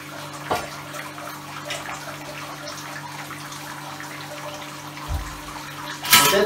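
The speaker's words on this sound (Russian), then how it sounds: "Промываем дробину." Hot water poured from a ladle rinses spent brewing grain, a steady trickling and splashing with a low electrical hum underneath and a louder pour near the end.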